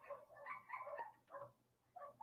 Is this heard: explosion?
no